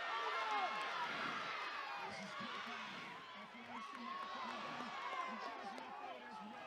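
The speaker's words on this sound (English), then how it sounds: "Listen to the crowd, the excitement from Tani Whara." A rugby league crowd at a championship grand final cheers and roars, a dense, sustained wash of voices heard from a distance with whoops rising through it, while a commentator speaks over it.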